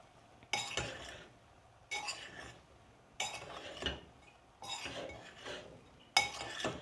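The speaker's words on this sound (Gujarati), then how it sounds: "પણ પહેલાં મેં આને પ્રોપર મિક્સ કરી નાખું એટલે અહીંયા મસાલો અને બધું કૂક થતું જાય." Spices stirred in a cooking pot for a methi and brinjal curry, five separate bursts of spoon scraping and clinking against the metal, close and clear with short pauses between.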